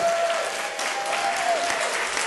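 Wedding guests applaud together at a hilltop venue, steady clapping carrying on for a couple of seconds with a faint tone running underneath.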